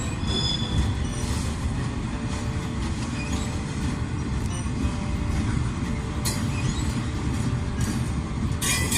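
A New Orleans Public Belt freight train rolls past picking up speed, a steady loud rumble of rail cars with squealing wheels and scattered metallic clanks, continuous and close with no talk.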